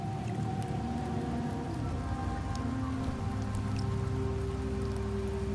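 Steady rain falls in the video game Wuthering Waves, in the rainy Septimont setting. It makes a dense, constant patter that runs unbroken under sustained low musical tones.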